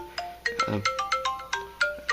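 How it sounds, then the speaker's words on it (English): A phone ringtone plays for an incoming call, a bright electronic melody of short repeated tones pulsing in an even rhythm, clear and alone with no talk. "A phone call from Himiko."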